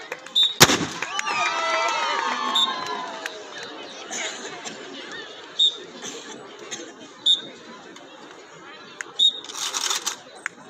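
Gunfire from a CISF women commandos' shooting demonstration, with squads firing from low and high positions: a loud sharp report at the start, then several more spaced cracks, heard under steady crowd chatter and talking.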